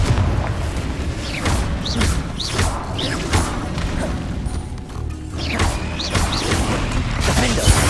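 Confringo explosive spell blasts in Hogwarts Legacy, a rapid run of booms, whooshes and crashing impacts amid dense combat noise, with shouted spell names.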